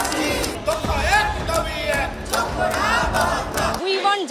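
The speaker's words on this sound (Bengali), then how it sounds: "ধর্ণা মঞ্চে শোনা গেল উই ওয়ান্ট জাস্টিস স্লোগান" Protesters at a sit-in chant a slogan in unison, loud rhythmic crowd voices rising and falling in repeated phrases, with shouted calls over the group, ending abruptly.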